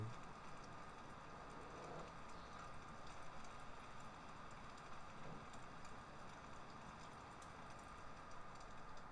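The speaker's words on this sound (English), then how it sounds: "Let this rain finish so we can get back to work." Rain in the video game Farming Simulator 17 falls as a steady, quiet hiss with faint pattering drops, continuous and unchanging throughout.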